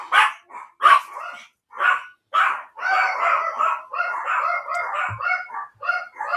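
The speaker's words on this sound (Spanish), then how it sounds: "mientras mis perros ladran" Several dogs bark indoors in repeated loud, sharp bursts that overlap into a continuous yapping chorus, close and insistent throughout.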